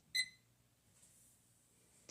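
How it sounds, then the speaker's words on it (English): A kitchen timer being set gives a single short, high electronic beep, followed by near silence with faint room noise and a soft click at the end. "And I'm setting the timer for 20 minutes."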